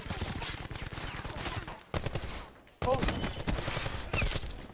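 Rapid automatic gunfire in Call of Duty Blackout, sustained bursts of close, loud shots broken by a short pause, with players talking over the firing.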